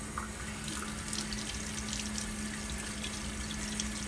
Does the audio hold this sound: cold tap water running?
yes